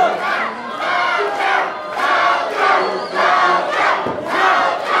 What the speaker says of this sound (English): asking for the crowd to cheer for him a little bit